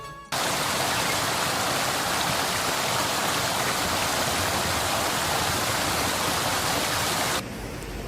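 The Pahang River at Jerantut flows in a steady, even rush of water that holds loud and unbroken from start to finish, with no voices.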